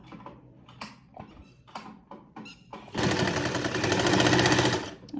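A sewing machine stitches pleats on a salwar, first with a few scattered clicks and soft handling thuds, then a loud, fast, steady mechanical whirr that runs continuously for the final two seconds, close up.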